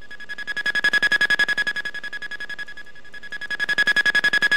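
An AIM-9 Sidewinder seeker tone sounds in the Falcon BMS flight simulator cockpit. It is a steady high electronic tone with a fast pulsing warble that dips briefly mid-clip, then returns at full strength, with no talking.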